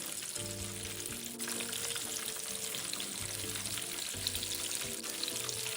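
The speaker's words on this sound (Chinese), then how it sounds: "只要油炸约2分钟左右，表面色泽金黄后即可离火。" Shrimp rolls deep-fry in hot oil until golden, cooked in small batches. A steady, dense crackle and hiss runs without a break at close range, with no talking.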